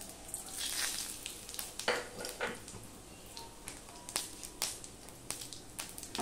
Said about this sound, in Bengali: দিয়ে দিলাম হাফ চামচের মতন জিরে ফোড়ন